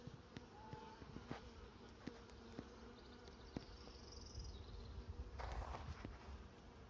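Honey bees hum softly around an opened beehive during a late-May inspection. A faint, steady buzz runs throughout, with scattered clicks of frames and tools and a brief louder rustle near the end.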